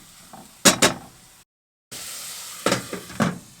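A metal lid clinks onto a pan of sizzling, sweating ingredients, giving two sharp clanks near the start and more clatter after a brief gap, heard close and alone.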